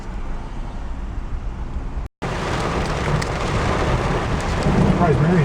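Heavy rain pours in a loud, continuous wash with thunderstorm rumble beneath it, heard close up, with a brief cut partway through before the downpour resumes even stronger.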